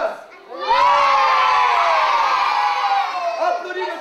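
A crowd cheering and shouting with high excited voices, a loud sustained roar that swells after a brief quieter start and holds steady before easing slightly at the end.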